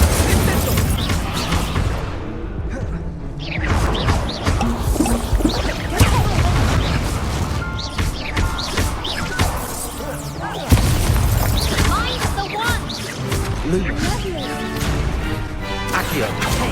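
Confringo fire spells blasting in the Hogwarts Legacy video game: continuous loud booms and crashing impacts in a busy combat mix, with speech running alongside throughout.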